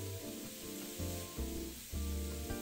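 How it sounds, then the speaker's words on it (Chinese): Carrots stir-fry in a wok over medium heat with a constant low sizzle and hiss, broken by a few louder swells where the pan is stirred, and no talking. "中火炒到胡萝卜变软，但还有一点咬感即可"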